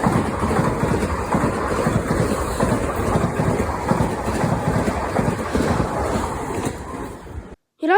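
A British rail passenger train passes close by, a loud, steady rumble and roar of wheels on track lasting several seconds before cutting off abruptly near the end.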